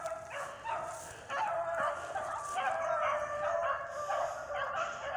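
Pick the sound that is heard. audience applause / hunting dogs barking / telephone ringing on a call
hunting dogs barking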